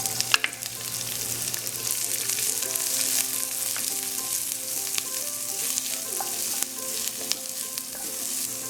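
Onions, pimentos, hot pepper and garlic fry in avocado oil over low to medium heat, a steady close sizzle with crackles and spits, stirred now and then with light scrapes.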